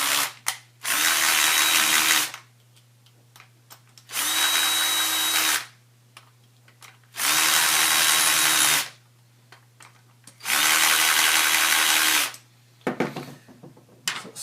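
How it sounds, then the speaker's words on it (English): Electric screwdriver driving screws during a dome drive assembly, four steady whirring runs of about a second and a half each, separated by pauses, close up with no talk. "I'm just going to use my electric screwdriver and screw them down."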